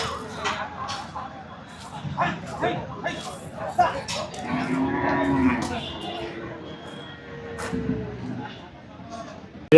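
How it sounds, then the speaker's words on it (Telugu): Buffaloes for sale at a weekly livestock market low and moo repeatedly, one long call standing out, amid a background murmur of crowd voices and market bustle at moderate distance. "సర్దార్ మార్కెట్లో అమ్మకానికి వచ్చిన గేదెలు ఇవి"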